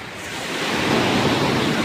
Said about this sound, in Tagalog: At malalaki ang alon.